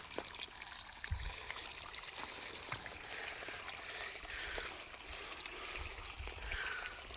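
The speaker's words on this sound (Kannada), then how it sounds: "ನೀರು ಬೀಳ್ತಾಯಿದೆ ಇಲ್ಲಿ" Water falls and flows steadily in a stream on a coconut farm plot near Malavalli, a continuous rushing wash with a few soft low thumps, heard alone with no talk.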